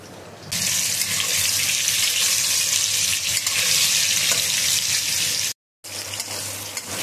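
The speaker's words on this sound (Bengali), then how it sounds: "বেগুনগুলো কিন্তু খুব সুন্দর লাল লাল ভাজা হয়ে গিয়েছে" Eggplant slices frying in oil in a pan, a bright continuous sizzle starting after a quiet moment and holding steady, with a short gap near the end before the sizzling returns.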